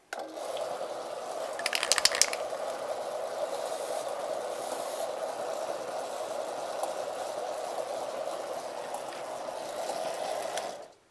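A steady mechanical whir of a backlapper sharpening a reel mower runs for about ten seconds, constant and close, with a brief clatter early on before it cuts off.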